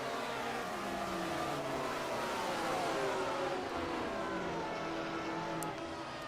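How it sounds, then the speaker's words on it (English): A field of 1978 USAC race cars circulates on track during a warm-up session, their engines forming a steady, continuous distant roar with shifting pitch as cars pass and accelerate. "as we can also hear all the cars out on track for the warm-up session"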